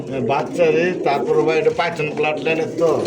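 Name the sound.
pigeons cooing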